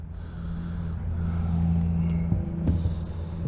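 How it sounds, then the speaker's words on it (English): A loud white car's engine rumbles steadily nearby in a housing project in Winston-Salem, North Carolina, a deep low drone that swells slightly as it drives past. "You hear that loud car right there?"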